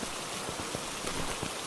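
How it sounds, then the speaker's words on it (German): Steady, dense rain falls in the Phasmophobia ghost-hunting game, a continuous close hiss with scattered droplet taps and no talk over it. "Wieso regnet es denn so, Leute?"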